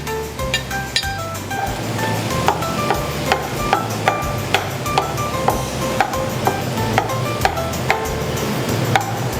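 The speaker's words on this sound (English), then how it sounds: "we're going to be cooking the mince until it's brown and no longer pink" Minced beef browning with herbs in a pan, stirred with a utensil that clinks steadily against the metal in regular sharp taps over a low sizzle, close and fairly loud, with no talking.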